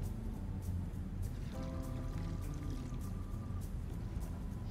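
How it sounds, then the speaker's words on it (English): Hot water is poured into a pot of diced potatoes, making a steady, gurgling trickle whose pitch rises as the pot fills, over a constant kitchen hum with no talking. "add a little bit of hot water."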